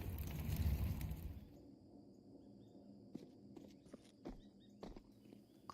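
Footsteps during a Counter-Strike match, a run of soft, irregular steps with light clicks and taps following a brief louder burst of game noise, quiet and slightly distant with no voices.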